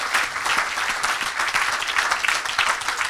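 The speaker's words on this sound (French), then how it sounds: "Tu peux acclamer plus fort que ça." A church congregation applauds and cheers during a preaching service, a dense, steady wash of clapping from a large crowd that carries on for several seconds without letting up.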